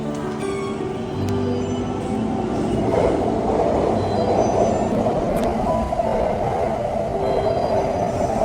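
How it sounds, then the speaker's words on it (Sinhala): A train pulls into a Japanese station near Tachikawa. A steady heavy rumble of rolling cars builds with faint wheel squeal and tonal motor whine, close and loud, with no talking. "මම එද්දිම ට්‍රේන් එකක් තිබ්බා"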